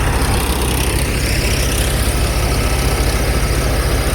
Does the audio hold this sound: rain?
no